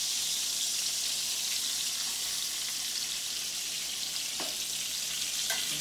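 Steaks searing in a pan make a steady, hissing sizzle throughout, close and alone, with a couple of faint clicks from a utensil near the end.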